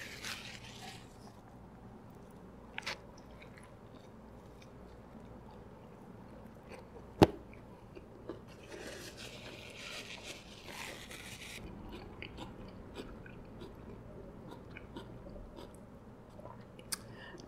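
Someone chews a McDonald's chicken burger with egg, giving quiet, close, moist chewing and soft crunches, with one sharp click partway through and no talking.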